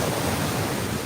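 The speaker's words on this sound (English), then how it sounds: "Ooh, the tide is coming in." Ocean surf washing in at Jabaquara Beach on Ilhabela, a steady broadband rush of waves heard up close, continuous and moderately loud with some wind on the microphone.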